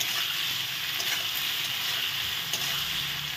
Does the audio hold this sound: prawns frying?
yes